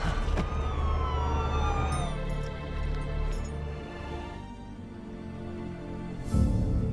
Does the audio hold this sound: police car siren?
yes